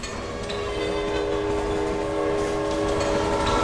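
A loud train in a Roblox video game rumbles steadily past a level-crossing gate with a sustained horn blaring over the rolling noise, close and continuous.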